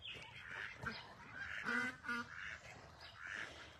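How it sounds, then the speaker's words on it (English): Duck quacking on a farm near a watering hole where cattle graze, a few short nasal calls in a burst around the middle with softer calls before and after, over faint outdoor background. "What you doing, ducky duck?"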